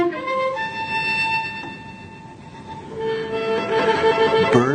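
Cello playing the Catalan melody Song of the Birds, sustained bowed notes with high, bird-like tones and slides, a fairly quiet and resonant performance.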